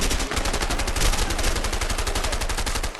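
Dense automatic gunfire in the video game A Way Out, with rapid bursts of shots packed tightly together and running loud for the whole stretch.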